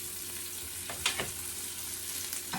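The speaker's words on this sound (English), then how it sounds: "You can hear it kind of nicely pan frying there, right?" Edamame sizzles steadily while pan frying in hot oil, with a few brief scraping stirs cutting through the constant frying hiss.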